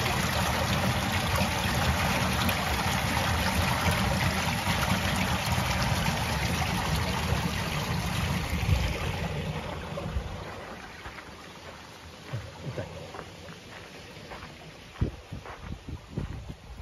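Water flows steadily through a stream in the village of Cabra de Mora, Teruel, as a broad, continuous rush. It is loud and close for the first ten seconds, then thins to a softer trickle broken by scattered knocks and splashes.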